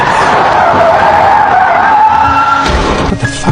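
A car skids in an accident, a loud, sustained tire screech with a wavering pitch and engine noise close by, ending in a low thump and rattle.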